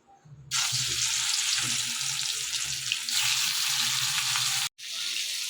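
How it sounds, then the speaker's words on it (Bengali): Stingray (shankar fish) pieces hit hot oil in a kadai and break into a loud, steady sizzle that holds for several seconds, cuts out briefly near the end, then resumes; no one speaks. "এবার আমি মাছগুলো একে একে ছেড়ে দিই তেলের মধ্যে"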